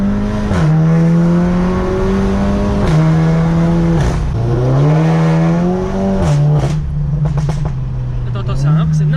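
A VW Golf 7 GTI Clubsport with an APR Stage 2 tune, roughly 400 hp, revs hard in repeated rising and falling pulls, loud and close, with crackling exhaust pops between the revs.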